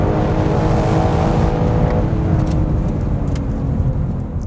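A Ford Shelby Mustang GT500 and a BMW M4 Competition in a drag race, loud sustained engine roar under acceleration with wind and road rumble, fading slightly toward the end.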